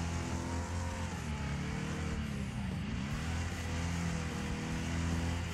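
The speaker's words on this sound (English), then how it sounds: "Drifting with 18 wheelers." A big rig truck drifting in the racing game Wreckfest: a loud, steady low engine roar with tire noise held throughout, dipping briefly midway, with no voices.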